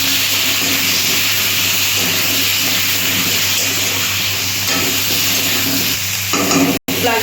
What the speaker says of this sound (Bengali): আমি একটু লবণ দিচ্ছি, অল্প একটু হলুদ দিয়ে আমি একটু ভেজে নিচ্ছি।